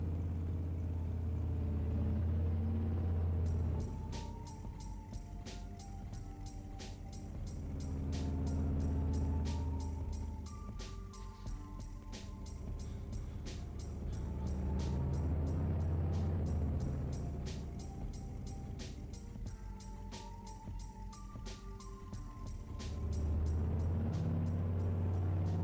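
A loud harvest truck engine rumbles from inside the cab, a deep continuous drone that swells and eases with the throttle, with rattles and clicking from the cab over the steady roar.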